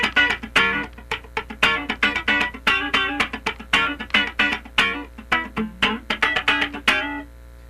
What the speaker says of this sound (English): a little thing called a half-step slide